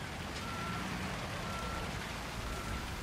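A concrete truck backing up in Construction Simulator, emitting steady, evenly spaced reversing beeps over a constant diesel engine rumble, close and continuous.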